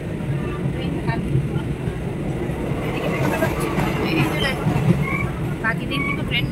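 Steady low rumble and rattle from inside a moving passenger train, with a constant loud hum of carriage noise throughout and faint background voices.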